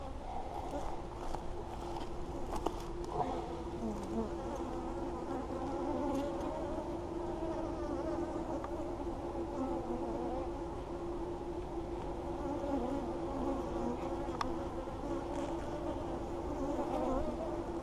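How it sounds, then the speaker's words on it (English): Honeybees buzz around an open hive during an inspection, a dense steady drone of many wings close by that lasts throughout, with occasional louder passes near the listener and faint handling sounds underneath. "They're buzzing me a whole lot more right now."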